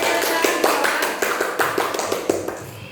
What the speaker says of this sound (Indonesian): tepuk tangan yang meriah untuk teman kita